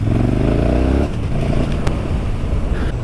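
A KTM 1290 Super Duke R motorcycle engine rumbles close and loud, a steady throbbing idle with a brief higher rev at the start before settling into a deep, even burble.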